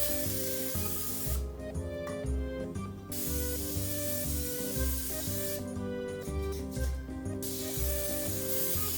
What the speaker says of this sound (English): We take our cooking spray because we have to grease our hands.